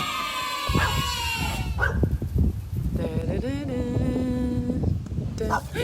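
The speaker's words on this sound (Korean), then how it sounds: "아, 개들 짖고 난리 났다, 지금." Several large dogs bark loudly and repeatedly at a house in the countryside, with some whining and yipping mixed in, the barking continuous and close throughout.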